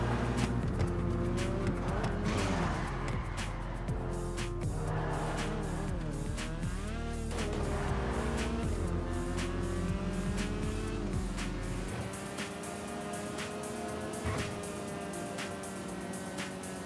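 A car driving in the GTA V video game, its engine droning and revving steadily with pitch rising and falling over shifts, tire squeals and clicks scattered throughout, loud and continuous without talking.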